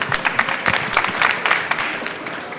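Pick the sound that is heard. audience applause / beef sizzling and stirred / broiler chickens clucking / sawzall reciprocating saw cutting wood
audience applause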